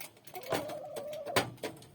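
Caged chickens make soft clucks and low coos close by, mixed with light scratching and rustling, plus a few sharp taps and scrapes against the cage.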